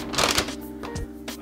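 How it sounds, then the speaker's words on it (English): A large paper instruction manual for an 8BitDo Pro 2 Bluetooth controller crumples and rustles in a few short bursts, close up, with no talking. "Apologies for the paper crumpling."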